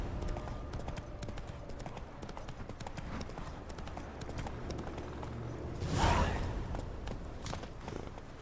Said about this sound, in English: I do like this horse race